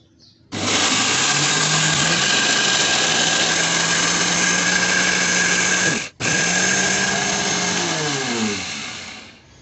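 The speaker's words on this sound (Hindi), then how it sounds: "तो देखिए अब मैं इसको चलाती हूँ ग्राइंडर को और थोड़ी थोड़ी करके हम इसको पीस लेंगे।" An electric kitchen grinder pulverises dried turmeric for homemade powder, running as a loud, steady motor whine that stops abruptly for a moment, then restarts and carries on before tapering off.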